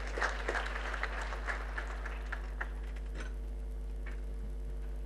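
Audience applause at a conference opening ceremony, scattered claps that are fairly faint and thin out after a couple of seconds over a steady low hum.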